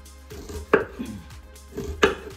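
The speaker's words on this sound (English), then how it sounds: "you want to chop this pretty fine" A knife chops white onion on a cutting board, giving two sharp, close strikes with a few lighter taps between them and no voices.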